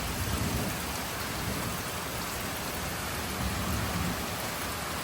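Steady rain shower pours down continuously, a dense, even hiss of drops hitting surfaces up close, with faint thunder beneath and no voices.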